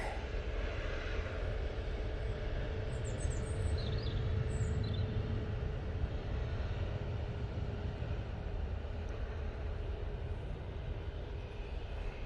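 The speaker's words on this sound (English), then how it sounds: "That's coming in from Malta using the 737 MAX 8" A Boeing 737 MAX 8 airliner lands at Manchester Airport arriving from Malta, a faint distant engine rumble holding steady throughout, with light high chirps briefly above it.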